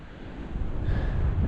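Wind blowing along a stormy seashore on a winter night, a steady low rumble with buffeting on the microphone that grows a little stronger toward the end, no voices.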